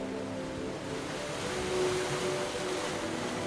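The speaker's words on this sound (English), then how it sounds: "Waves rushing to the shore." Waves rush steadily toward the shore with a broad, soft wash of surf that swells slightly midway, heard alone without talk.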